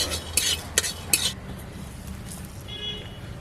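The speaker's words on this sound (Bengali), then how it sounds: "এখন দিয়ে দিচ্ছি ধনে, সামান্য একটু মৌরি আর একটু জিরে। এবার এগুলোকে আমি একটু ভেজে নেব।" Whole spices (bay leaf, coriander, a little fennel and cumin) being stirred as they fry in a pan for ghugni. Three sharp scraping clinks come in quick succession, then a low, quiet kitchen background follows.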